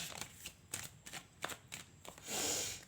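Tarot cards are shuffled quietly nearby in several short riffling bursts, followed by one longer continuous riffle.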